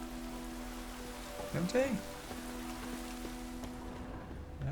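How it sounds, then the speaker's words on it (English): Steady rain falls in The Witcher 3 next-gen update, a constant soft hiss running under the whole stretch while someone speaks briefly over it. "Well, good thing it's raining then."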